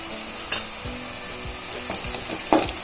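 Long-cut green chilies frying with soaked poha in a pan, a continuous close sizzle broken by stirring scrapes and a sharp clatter near the end, no voices.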